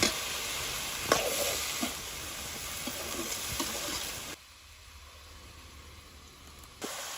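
Chopped onions fry in hot oil in a village-style kitchen, giving a steady close sizzle with occasional stirring clinks, then the sizzle drops sharply quieter partway through.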